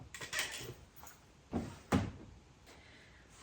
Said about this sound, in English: Let me grab that from my drawer.